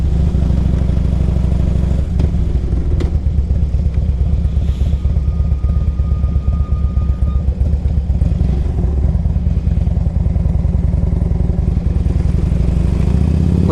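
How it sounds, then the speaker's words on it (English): A 2003 Harley-Davidson FLHTP police motorcycle idles and runs with a loud, close, rumbling V-twin engine note, steady throbbing and some mechanical clatter throughout. "It's a good running bike."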